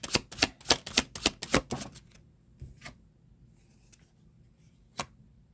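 Tarot cards being shuffled: a quick run of crisp, rapid clicking riffles for about two seconds, then quieter scattered taps and one sharp snap as a card is drawn, close and alone.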